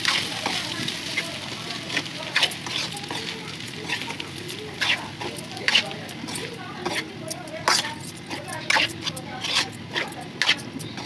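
Egg vermicelli stirs in a hot pan, a continuous close sizzle punctuated by irregular spatula clatters and scrapes, some sharp and some soft, over about eleven seconds.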